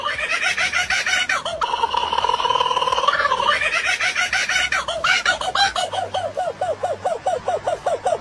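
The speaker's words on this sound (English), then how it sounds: "Kookaburra noise." A kookaburra gives its call: loud, harmonic, rising cackles that break into a rapid, rhythmic run of laughing notes, close and clear.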